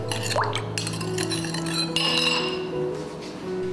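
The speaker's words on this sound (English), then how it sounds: "and give it a good stir. Make sure you break down all that bean paste." A spoon stirs sauce with bean paste in a bowl, clinking and ringing against the sides in quick close taps.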